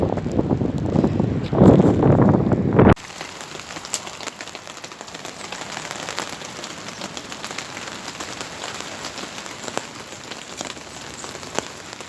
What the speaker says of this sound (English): we're having a bit of rain